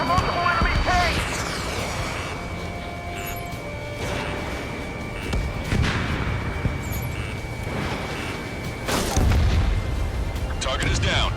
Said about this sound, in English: We're taking fire from multiple enemy tanks!